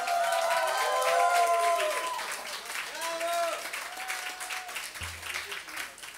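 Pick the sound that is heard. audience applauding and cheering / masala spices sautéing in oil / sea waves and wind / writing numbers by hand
audience applauding and cheering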